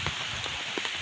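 Rain pours steadily onto an umbrella and the ground around it, a dense close patter with scattered heavier drops.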